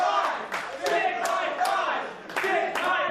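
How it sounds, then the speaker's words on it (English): A wrestling crowd at a Beyond Wrestling independent show chants together, a loud, rhythmic roar of voices punctuated by sharp bursts and claps, filling the venue continuously. "Crowd here calling for a dick high five, and we get it."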